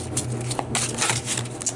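Tarot cards shuffled by hand, giving steady papery rustling and riffling with a few sharper flicks, close and continuous throughout, no voices.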